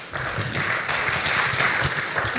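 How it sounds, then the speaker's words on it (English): A steady wash of audience applause at a panel discussion on urban workers' rights, as a panelist is called up, dense and even throughout with a faint voice underneath. "David, please come up, a round of applause."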